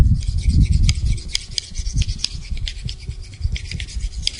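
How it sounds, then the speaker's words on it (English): Close, rhythmic scrubbing and rasping strokes as gunk is rubbed off a pruner blade during sharpening, repeated in quick, uneven passes. "Now I'm just rubbing off that gunk and that excess on that."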